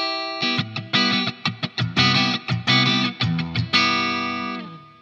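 Clean electric guitar played through a Boss Waza amp at 1 watt with its built-in digital reverb: a quick run of choppy strummed chords, then a final chord left to ring and fade out.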